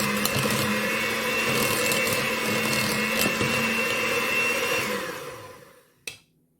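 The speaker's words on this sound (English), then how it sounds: "So I'm just going to add my butter first. I'm just going to blend that until it softens a bit." An electric hand mixer whirs steadily as it blends butter in a bowl for red velvet cookies, then winds down and stops, followed by a single short knock.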